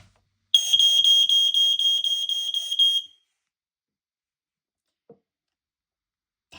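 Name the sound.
Ei2110 multisensor smoke alarm sounding during test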